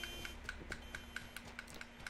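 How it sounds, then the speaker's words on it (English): An alarm in Grand Theft Auto IV gameplay beeps quickly and repeatedly, about ten sharp evenly spaced tones over a low steady hum, fairly quiet and without talking. "Oh my god, shut up with the alarms."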